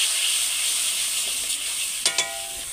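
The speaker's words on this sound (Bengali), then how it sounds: "দিয়ে মশলাটা তেল ছাড়া পর্যন্ত কষে নেব" Chili and turmeric masala frying in oil in a kadai for a rohu fish curry, a bright continuous close sizzle with a couple of brief clinks near the end.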